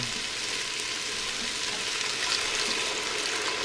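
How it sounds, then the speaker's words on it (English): Wine poured into a hot pan while making fire-roasted marinara sauce, producing a loud, close, continuous hissing sizzle throughout with no talking. "I'm going to add my wine so I can cook out the alcohol from the wine"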